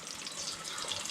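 Sliced potatoes for Indian-style chips fry in hot oil, giving a continuous hiss and fizzing sizzle, steady and fairly quiet, with no voices.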